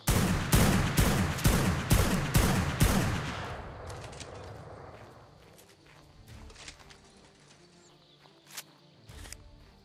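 Rapid burst of gunfire from a PvP firefight in the survival game Ark, a dense volley of loud shots for about three seconds, then scattered fainter shots and clatter trailing off.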